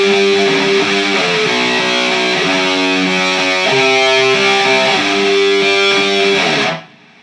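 Distorted electric guitar plays an intro riff slowly, sustained chugging notes ringing loud and steady for about six and a half seconds before cutting off into silence.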